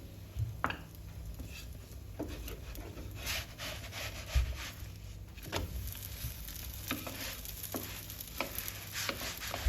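Potato gözleme frying in an oiled pan, with steady sizzling broken by scraping and rubbing as the flatbread is brushed with oil and turned.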